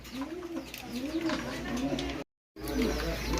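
Pigeons, including a red muki pigeon, coo in repeated soft rolling calls close by, with a brief gap of silence midway.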